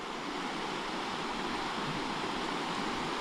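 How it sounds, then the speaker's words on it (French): A mountain bike on an electric-assist trail ride near Oiartzun rolls through a stream, masked by a steady broadband rush of flowing water and wind noise, with no distinct splashes and no talking. "On traverse ce ruisseau."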